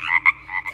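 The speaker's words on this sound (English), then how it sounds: "This is a frog." A frog gives a quick series of croaks, two or three short raspy pulses, close and clear with nothing else around them.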